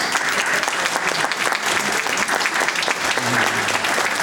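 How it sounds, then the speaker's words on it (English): A school audience at Tangier Smith Elementary gives loud, continuous applause for student poster winners, a thick, steady roar of many clapping hands with faint voices beneath. "let's give a nice round of applause for all of our poster winners"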